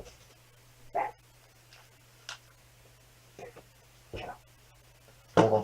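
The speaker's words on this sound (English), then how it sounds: "Freaking dogs!" Dogs out in the woods bark in scattered, sharp single yelps spaced across several seconds, some near and loud, with quiet gaps between and a low steady hum beneath.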